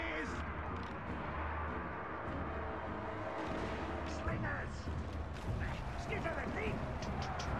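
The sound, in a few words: artillery fire in a Total War Warhammer video game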